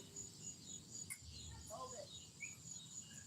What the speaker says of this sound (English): the cicadas are starting to sing out a little bit more